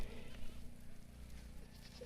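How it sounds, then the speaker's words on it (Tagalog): Goats bleat in an empty lot in short, faint calls against a low rumbling background with insects buzzing. People are close by, but no clear words come through. "Tatlo yung kambing, oh."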